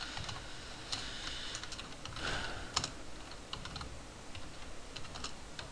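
Quiet, close computer keyboard typing while writing a sub-program event, a steady patter of light clicks with a few sharper key strikes, no talking.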